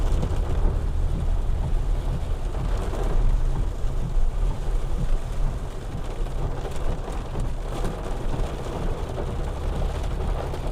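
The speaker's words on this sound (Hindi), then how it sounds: "बेजान बारिश आ रहा है आज" Heavy rain pours over a Honda Accord driving through Bangalore, a dense continuous roar of water on the car body and road, steady and loud with no voices.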